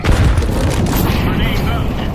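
A grenade exploding in Counter-Strike 2: a heavy boom that opens loud and close and then rolls into a rumbling decay, with gameplay noise and voice chat underneath.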